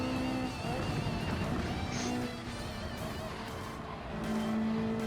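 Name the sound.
car engine accelerating in Gran Turismo 7 video game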